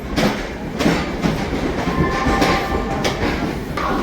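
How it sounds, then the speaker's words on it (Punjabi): Loud, close rumble of the Sachkhand Express pulling out of Ambala Cantt Junction station, with rhythmic clacking of wheels over rail joints and a steady metallic roar. "ਸ੍ਰੀ ਹਜੂਰ ਸਾਹਿਬ ਵਾਲੀ ਜਿਹੜੀ ਟ੍ਰੇਨ ਆ ਉਹ ਵੀ ਚੱਲ ਪਈ ਆ"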